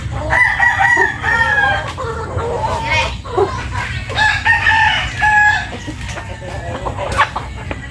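Chickens cluck repeatedly close by while a rooster crows, mixed with a steady low background hum and scattered farmyard noise.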